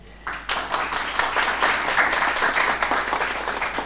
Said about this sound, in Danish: lad os lige få et bifald til Michael